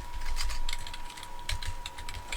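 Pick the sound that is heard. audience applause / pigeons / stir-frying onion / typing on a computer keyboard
typing on a computer keyboard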